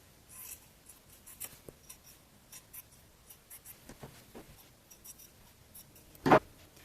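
Scissors cut wide, deep strips of fabric for a dog snuffle mat, with quiet, scattered snips and rustles and one sharper, louder cut near the end.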